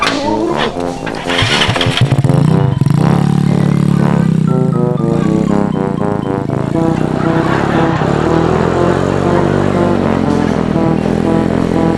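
A small motorcycle engine drones loudly and steadily for the whole stretch, its pitch rising and dipping as the throttle shifts.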